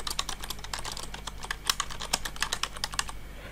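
Rapid, steady typing on a computer keyboard while entering a Java import statement, close and clear, with irregular bursts of clacking keys and no voices.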